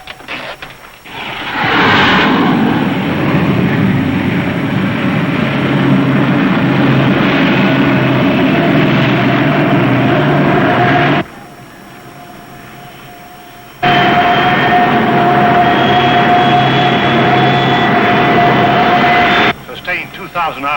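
An aircraft engine runs up and holds around 2,000 RPM, a loud broad roar with a tonal whine that drops away abruptly for a few seconds before surging back at full strength.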